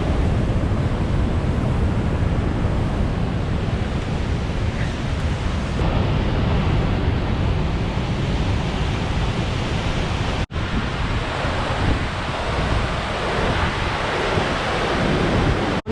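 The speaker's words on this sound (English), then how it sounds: "it's so windy and there's so much water, it's blowing right on us" Strong wind and rushing waterfall spray roar across the Mist Trail in Yosemite National Park, a steady, loud, broadband wash that stays constant throughout with no voices.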